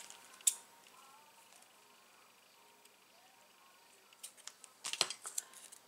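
Scissors trimming card while making cards with nesting dies, a sharp snip near the start, then a quiet stretch and a burst of small snips and handling rustles toward the end.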